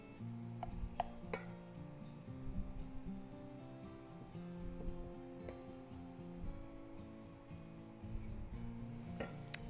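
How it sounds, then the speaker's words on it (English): A knife cuts cooked steak into thin slices on a board, giving faint, soft chopping taps and rubbing sounds that are close but quiet, with no talk. "Now we're going to cut it into thin slices."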